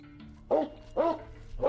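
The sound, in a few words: Rottweiler barking at door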